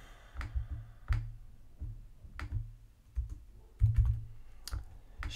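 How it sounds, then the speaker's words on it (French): Keywords being typed on a computer keyboard: scattered clusters of soft key clicks and taps, close and fairly quiet, in an irregular rhythm with pauses between bursts. "je tape des mots-clés"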